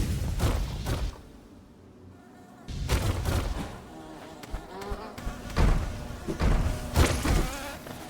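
Small bee enemies buzz inside the Hive of a video game, faint droning in short bursts between louder thumping impacts and hits, with quiet gaps in between.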